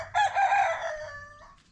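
A single rooster crows once, close and clear outdoors, a drawn-out call among roaming chickens that fades away over under two seconds.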